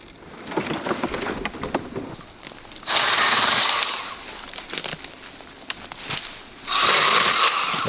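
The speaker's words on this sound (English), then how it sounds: "That thing's badass. Chainsaw I've ever seen. This thing is amazing." A small Milwaukee battery-powered chainsaw whirs in two bursts of a few seconds each, loud and close, with lighter crackling and handling noise between the runs.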